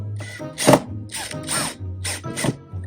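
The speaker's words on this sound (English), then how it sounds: "Time to screw them in." A power driver sets screws into wood for a homemade wooden mud kitchen, giving short ratcheting whirs in several bursts, close by, with a low hum underneath.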